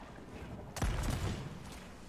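A ship's cannon in the Sea of Thieves video game fires one sharp, loud blast that rumbles and fades over a continuous background of wind and sea ambience.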